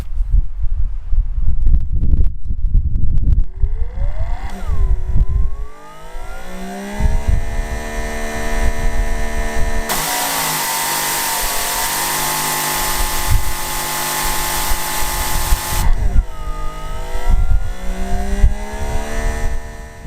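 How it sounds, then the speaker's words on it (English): A Greenworks GPW2700 electric pressure washer motor runs loud and close, with a steady high whine that winds up, holds a long continuous pressurized hiss, then drops and restarts with a rising pitch. "I just thought it had a really unique sound among electric-powered pressure washers"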